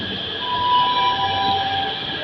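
A Namo Bharat RRTS rapid rail train on the Delhi to Meerut regional line runs with a steady, loud hum and tonal whine, close and continuous, with no talk.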